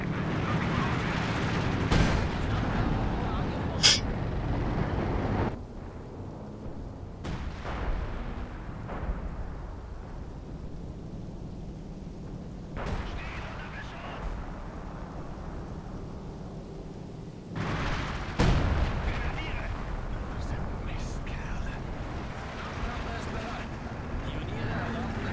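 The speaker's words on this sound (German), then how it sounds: "Aber der beknallert da alles mit seiner scheiß Artillerie" Booming artillery fire in a World War II German tank video game, several heavy blasts and rumbling impacts spread across the stretch, with someone talking over much of it.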